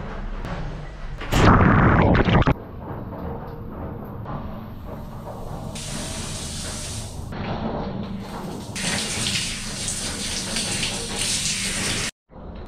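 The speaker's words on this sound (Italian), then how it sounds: "Andiamo a farci la doccia per pulirci un po' i pezzi." Shower water running in Thailand, a loud gush at first then a steady hissing spray that shifts in strength, briefly cutting out near the end.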